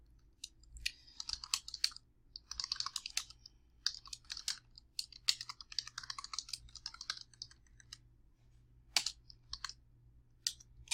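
Typing on a computer keyboard while composing a social media message: bursts of quick, close key clicks separated by short pauses, over a faint low electrical hum.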